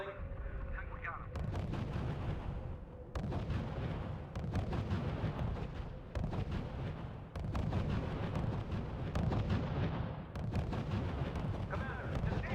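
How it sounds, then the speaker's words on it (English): Gunfire and artillery rage in the D-Day Utah Beach mission of the strategy game R.U.S.E.: dense, loud, continuous bursts and booms roll on without pause. "Unit under fire. Unit being ambushed. Taking heavy fire."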